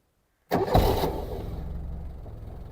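A car engine cranks and catches after a moment of silence, roaring briefly before settling into a steady idle.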